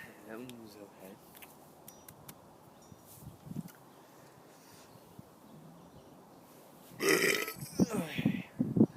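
A person lets out a loud, drawn-out burp near the end after several seconds of quiet, with speech heard before it.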